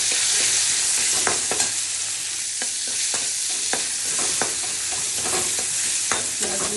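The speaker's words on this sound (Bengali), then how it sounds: "পেঁয়াজ দিয়ে দিয়েছি, সব কিছু একসাথে করে ফ্রাই হয়ে গেছে।" Onions fry in hot oil with dried red chilies, cardamom, cinnamon, bay leaf and cumin, making a loud, constant sizzle. Sharp spatula clicks and scrapes against the pan come at irregular intervals.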